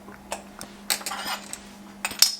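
Garlic powder stirred into a pot of grits on very low heat, a close run of sparse metallic clinks and soft scrapes from a utensil against the pot, with no talk.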